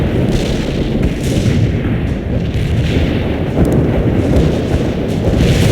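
Artillery strike explosions in a war video game roll together into a dense, continuous low rumble and roar, with no clear gaps between the blasts.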